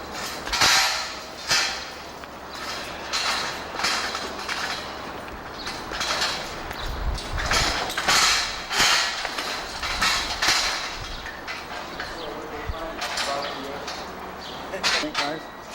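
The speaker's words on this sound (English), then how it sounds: "I am tightening bolts" Bolts being tightened on a wooden scout tower at an outdoor scout fair, repeated metallic clicks, knocks and creaks scattered irregularly through the scene beneath frequent nearby talking.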